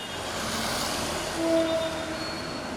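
A train rolls along the railway with a steady rumbling clatter at moderate distance, a brief tonal squeal or whistle rising midway through, no voices present.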